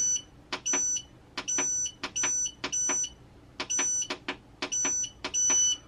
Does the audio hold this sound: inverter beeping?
yes